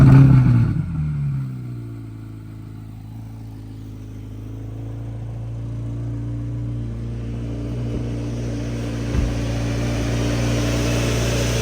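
A car fitted with a quad-tip exhaust cruises along during a South Florida toy rally, its engine holding a steady, deep, rumbling drone from inside the cabin, with a slight swell late on.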